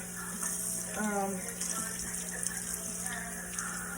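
Green mussels being rinsed under a running kitchen tap, a steady wash of flowing water with faint splashes, while a voice talks briefly over it.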